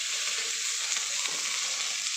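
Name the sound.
fish frying in a pan with onions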